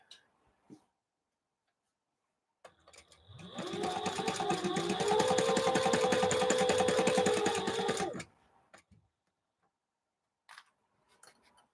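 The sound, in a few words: sewing machine stitching curtain panels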